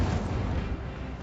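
Incendio fire spell cast in a Hogwarts video game, a dense low rumbling whoosh of flame that fills the moment with a steady roar and no pauses.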